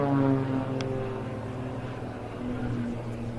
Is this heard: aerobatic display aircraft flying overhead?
yes